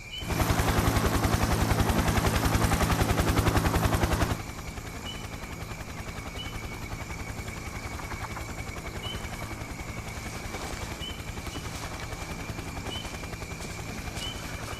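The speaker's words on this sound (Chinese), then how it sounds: "这破直升机一直在海上转悠" A helicopter circling over the sea: rapid rotor chop thuds loudly for a few seconds, then drops away to a fainter, steady drone that continues in the distance.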